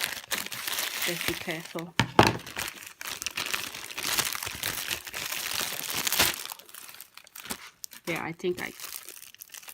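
Plastic packaging of a diamond painting kit crinkles and tears in short bursts as it is opened, close up, mixed with people talking throughout.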